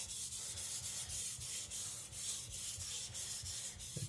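A Tojiro Shirogami nakiri knife is sharpened on a whetstone in steady back-and-forth strokes, a continuous gritty rasp with a regular rhythm, close and fairly quiet, with no talking.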